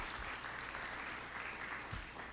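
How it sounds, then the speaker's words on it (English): Audience applause at a New Jersey Department of Community Affairs shared services road show event, a steady wash of many hands clapping throughout, fairly even and close, with no speech over it. "let's give them a round of applause."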